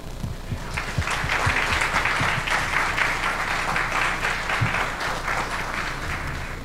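An audience applauds steadily after a panel discussion, a dense wash of many hands clapping that holds at an even, fairly loud level for several seconds.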